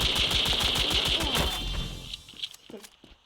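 Rapid automatic gunfire in the mobile shooter Standoff 2 rattles in a fast, even burst for about a second and a half, then breaks off into a few scattered quieter shots and clicks.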